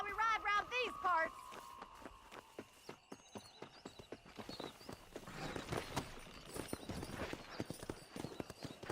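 A horse in Red Dead Redemption clip-clops at a quickening pace, hooves pounding in a steady rhythm that builds toward a gallop, with a short whinny near the start.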